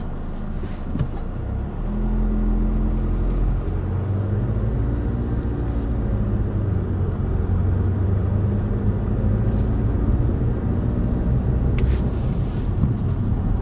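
A Seat Ateca with a DSG gearbox moving forward, its engine a steady close rumble that swells slightly as speed builds, with faint knocks and clicks from the cabin and no talk.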